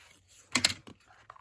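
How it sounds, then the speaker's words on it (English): A plastic ruler rubs down over the paper covering of a hard-cover journal board, giving a short scraping swish in the middle, then a couple of fainter scuffs and a light tap, close and quiet. "I'm going to take just a plastic ruler and rub it down there."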